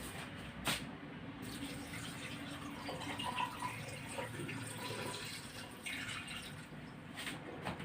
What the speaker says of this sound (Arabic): حيدو فيه داك النشا، نغسلوه مزيان